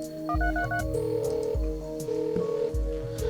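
An in-game phone in a video game dials out with a quick run of bright keypad beeps, then steady electronic tones and a repeating ring pattern, loud and clear with no talk.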